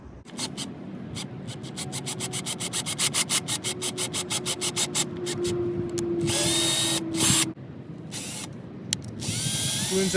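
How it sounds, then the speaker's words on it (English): A power drill runs in rapid pulsing bursts, then settles into a steady whine as it bores holes for mudflaps on a 2022-24 Subaru WRX, close and loud, with brief pauses between holes. "So we're gonna have to drill holes."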